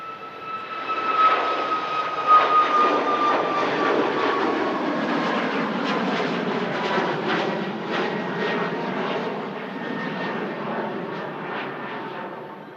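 A Ryanair Boeing 737 MAX starting its departure roll at Manchester Airport, jet engines spooling up into a sustained, loud roar with whining tones early on, continuous and alone.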